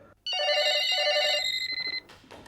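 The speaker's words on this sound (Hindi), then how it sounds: "अरे भाई लेकिन ये घंटियां तो बंद करके जाओ।" A telephone bell rings loudly and steadily at close range, then breaks into a string of short rapid pulses before stopping, with no one speaking over it.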